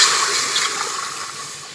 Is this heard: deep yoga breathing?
no